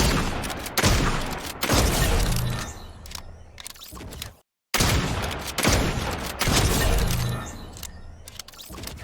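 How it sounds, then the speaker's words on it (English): Rapid, loud blasts from an infiltrator pump shotgun in Fortnite, fired in two dense bursts of repeated shots with pump-action clatter and impact crunches, split by a brief silent gap. "infiltrator pump, chest shot only"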